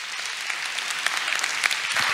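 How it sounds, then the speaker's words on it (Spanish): A crowd at a book presentation applauds steadily, a dense patter of many hands clapping throughout, moderately loud with no voices over it. "Un fuerte aplauso, por favor."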